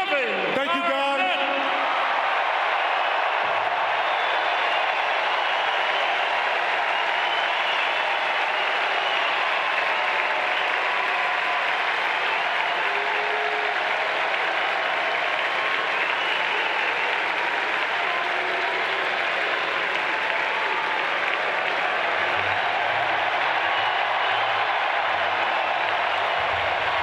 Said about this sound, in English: Celtics fans, how about one final applause for number 5, Kevin Garnett.